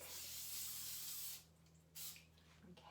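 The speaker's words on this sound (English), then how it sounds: "I'm just gonna go ahead and use my cooking spray" A close, steady hiss of cooking spray onto a pan held over a sink, lasting over a second, then a shorter second burst, with faint hum underneath.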